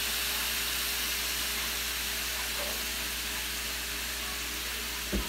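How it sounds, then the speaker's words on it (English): Ground beef sizzles in a pan, with a steady, broad hiss that holds evenly throughout and ends with a brief knock. "you put your ground beef in the pan"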